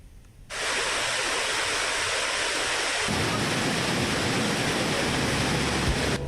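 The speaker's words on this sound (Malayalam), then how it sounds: "പാൽപ്പത് തീർത്ത് താഴോട്ട് പതിക്കുന്ന വെള്ളച്ചാട്ടം" Kuthumkal waterfall in Idukki, swollen after rain, pours in a steady, dense roar of rushing water that begins abruptly and holds constant throughout.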